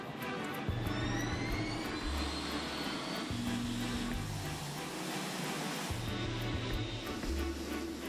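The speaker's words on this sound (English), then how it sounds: "The 747-8 Intercontinental, the newest and largest version of the company's iconic jumbo jet, is taking off for the first time." A Boeing 747-8 Intercontinental jumbo jet takes off with a loud, continuous engine roar and rising whine, shifting and sustained throughout, with no voices over it.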